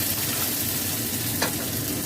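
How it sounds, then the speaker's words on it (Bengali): Onions fry in a pan after a tempering of fennel, bay leaf and dried chilli, giving a steady close broadband sizzle with a brief stir or scrape near the middle and no talk. "এটা পেঁয়াজটা ভাজবো এবার"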